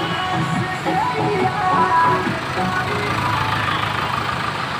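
A long queue of vehicles idling at the closed Kutubpur railway crossing: a steady, loud drone of engines running together with a broad traffic rumble and no clear breaks.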